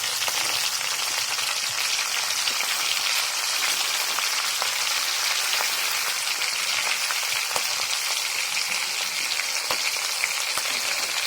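Green chillies frying in a pan of hot oil, a steady dense sizzle and crackle that stays close and even throughout with no voices.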